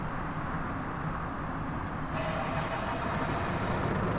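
A bendy bus engine in the driving game The Bus rumbles steadily at idle, with a broad, even drone that brightens partway through as the engine note changes; no voices over it.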